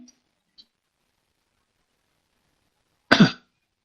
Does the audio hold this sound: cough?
yes